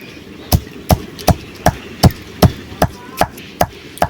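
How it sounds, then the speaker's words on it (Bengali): Dried bay leaves are pounded to a paste in a kitchen, giving about ten evenly spaced, sharp thuds in a steady rhythm, close and clear. "এই পাতাগুলো একসঙ্গে ধরে থেতো করতে হবে"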